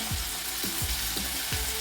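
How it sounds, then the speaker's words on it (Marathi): Onion sizzles and crackles steadily in very hot oil in a pot, with a few soft periodic scraping stirs beneath the constant hiss. "तेल खूप गरम आहे त्यामुळे लगेच कांदा घालून घ्यायचा आहे"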